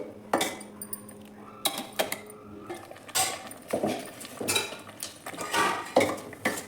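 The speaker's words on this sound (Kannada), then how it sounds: "ಮಿಕ್ಸ್ ಮಾಡಿ ಈ ರೀತಿ ಮಿಕ್ಸ್ ಮಾಡಿ" A spoon stirs horse gram sambar in a metal pot on a low flame, giving irregular scraping clinks and knocks against the pot, close and fairly clear.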